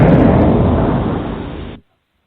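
A loud bomb explosion sound effect booms with a dense, rumbling roar that holds for nearly two seconds before cutting off abruptly into silence.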